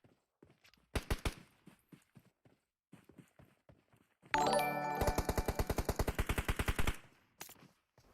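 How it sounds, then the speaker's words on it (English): Rapid bursts of automatic gunfire crackle in a battle royale video game during an esports match, with scattered single shots and footsteps before a dense, loud volley of repeated rounds, then a few trailing shots. "You can hear Dark Dragons continuing to take shots on LXG"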